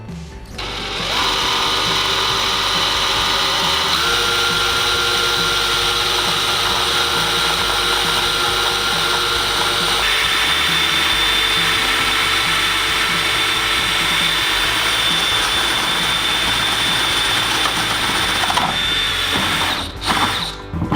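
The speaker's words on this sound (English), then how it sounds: "I'm going to go ahead and use my spade bit to drill that." A power drill whirs steadily and loudly for about twenty seconds as a spade bit bores through wood, its pitch shifting slightly partway through.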